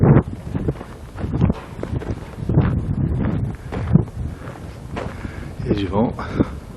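Gusty wind rumbles against the microphone in uneven bursts while a person speaks in French over it, outdoors near Missoula.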